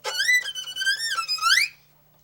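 A high, wavering squeaky tone slides up and down in pitch, like a mouse squeak imitated on a bowed string, alone with a faint steady hum beneath.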